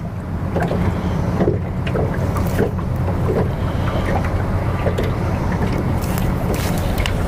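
Strong wind buffets the microphone outdoors at a fishing spot on the water, a loud, steady roar with gusty rumbling throughout and no talking.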